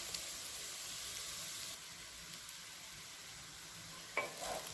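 Cooked white rice for veg fried rice being tossed and stirred in a hot pan, giving a faint steady sizzle with a brief scrape of the spatula near the end, no voices.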